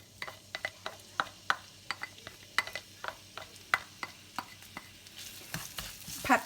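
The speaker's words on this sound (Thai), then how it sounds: "พอน้ำมันเริ่มร้อนแล้วเราก็มาใส่พริกกับกระเทียมเลยนะคะ" Chili and garlic fry in hot oil as a utensil stirs and taps the pan, giving a quiet bed of sizzle under a regular series of sharp clicks and scrapes, growing louder at the end.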